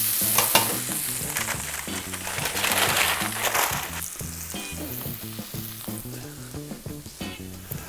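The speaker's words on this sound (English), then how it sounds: "We're gonna sear it, and we're actually gonna finish it in the oven." Prime New York steak searing in a hot pan, a steady loud sizzle and crackle with background music running underneath.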